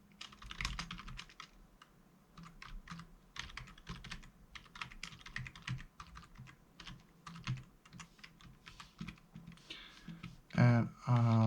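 Quiet, close typing on a computer keyboard, with irregular clusters of key clicks running throughout and a louder clatter near the end.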